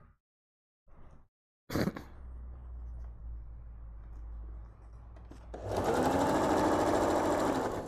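Sewing machine stitching an abaya, its motor running in short bursts and then settling into a steady whir, with a louder, faster run near the end. No one speaks.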